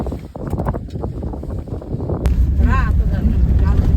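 Cold wind buffets the microphone in Upper Mustang, a rough low rumble rising after a sudden gust midway, with people talking and a faint engine-like drone beneath.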